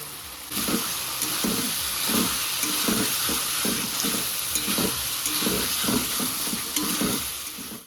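Loud, steady sizzling as fried potatoes and boiled mushrooms cook in a pan, with rhythmic scraping and knocks as the food is stirred, close and continuous.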